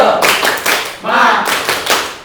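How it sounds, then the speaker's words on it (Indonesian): A group performs a rhythmic 'tepuk semangat' spirit clap at a school gathering, several close sharp claps in quick bursts with voices and shouting mixed in. "Bapak ingin tepuk semangat satu kali dulu"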